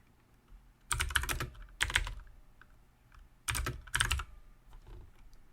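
Fingers type on a computer keyboard in four quick bursts of clattering keystrokes, close and clear, separated by quiet pauses.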